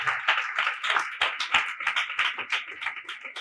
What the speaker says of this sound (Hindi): जोरदार तालियां बजाते हुए आप अपनी खुशी का इजहार कर सकते हैं।